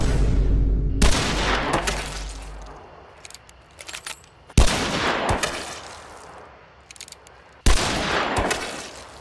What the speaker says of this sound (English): The slight discrepancy between the gunshot audio of a gun and a gun with a skin equipped.